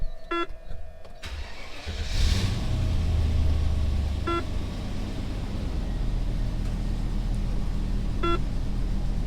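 A Land Rover engine starting up after an oil change, a low mid-pitched rumble that kicks in and keeps running steadily nearby, with a few short electronic chime beeps from the dashboard.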